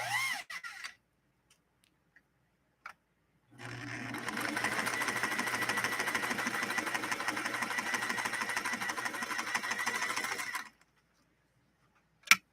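A 1960s Singer 503A sewing machine stitches thick saddle leather in one fast, steady run of about six seconds. It comes after a quiet stretch broken by a few clicks and ends with a sharp knock.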